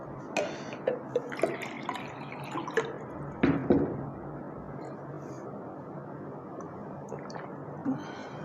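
Water being drunk or poured nearby: scattered soft gulps, drips and small splashes at uneven intervals, faint against a quiet room background.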